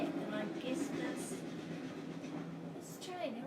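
A train rumbles past steadily throughout, a continuous low mechanical roar with faint rail clatter, somewhat distant, while a voice speaks softly over it.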